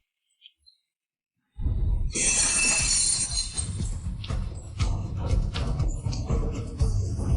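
After a short silence an antique vase smashes loudly, its sharp shattering burst followed by scattered tinkling fragments and a lingering clatter.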